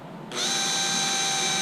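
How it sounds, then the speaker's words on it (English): A power drill bores oversized holes into an RC hydroplane hull, starting abruptly after a quiet moment and then whining steadily and loudly close by without letup. "So we're going to drill these oversized,"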